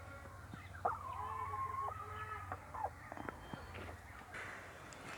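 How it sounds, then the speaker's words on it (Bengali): Hens clucking around a rural Bangladeshi yard, a string of soft, uneven calls close by over a low steady background hum, with brief louder squawks breaking in now and then. "এই যে দেখছেন আমার মুরগিগুলো"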